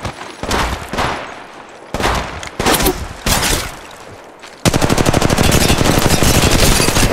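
Automatic gunfire from a Mastiff weapon in Apex Legends Mobile: several short loud bursts, then a sustained rapid stream of shots, close and dense.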